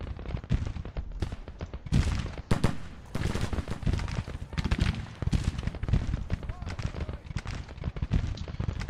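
Cannon fire in a Civil War strategy game, with artillery pieces advancing and opening up, crackles as a rapid, uneven string of booms and reports over a busy battlefield din, while someone speaks over it.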